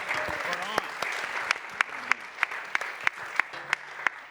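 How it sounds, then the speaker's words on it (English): Applause from a jazz academy panel audience, a thin patter of hands under a low voice, with sharp single claps standing out at a steady beat near the end. "I think she deserves a round of applause"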